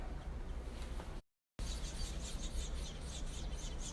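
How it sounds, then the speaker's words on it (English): Baby birds chirp inside a home chimney, a busy stream of small high cheeps under a constant rushing noise, briefly cut off by a moment of silence before resuming. "I got birds in my damn chimney."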